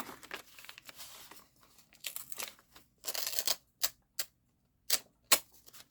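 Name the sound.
paper tag being ripped off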